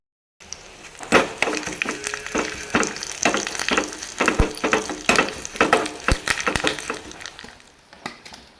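Urad dal and curry leaves frying in hot oil, a dense continuous sizzle broken by frequent loud pops and crackles, close and steady throughout with no voices.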